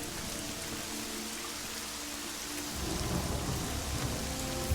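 Steady rain falls in the video game Deus Ex: Mankind Divided, a dense hissing downpour that is joined partway through by a deep rolling rumble of thunder growing louder, with no voices.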